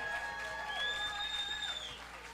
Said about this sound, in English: Mr. Dwight Bailey, let's give him a nice round of applause.